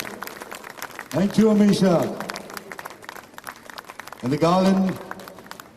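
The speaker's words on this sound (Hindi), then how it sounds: "तालियां रुकनी नहीं चाहिए." Audience applause at a film announcement event, a steady wash of clapping running beneath a woman's amplified speech that stays louder throughout.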